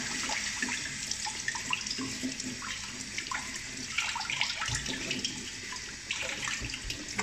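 Tap water runs steadily into a sink while fish is washed, a close, continuous splashing gush with small irregular spatters over the full length and no talk.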